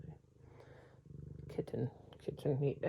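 A kitten purring up close, a soft steady low rumble, then overlapped by a person talking and making kissing sounds.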